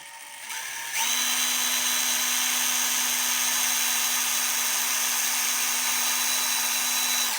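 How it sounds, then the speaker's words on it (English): A steady, high-pitched whine from a hand drill tapping a hole at relatively slow speed runs continuously for several seconds after a brief quieter start, close and loud. "so this is with the hand drill"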